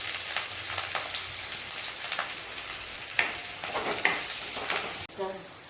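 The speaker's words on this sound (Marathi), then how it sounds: "आता यामध्ये कांदा घालून घेते आणि गोडलिंबर घालते." Onion and curry leaves frying in hot oil with cumin and asafoetida for masala khichdi: a steady close sizzle with scattered spoon scrapes and a few sharp clinks, moderately loud, without speech.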